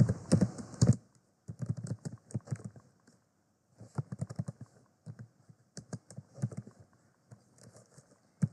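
Python code is being typed on a computer keyboard in quick, uneven bursts of close key clicks, broken by short pauses, with no talking over it.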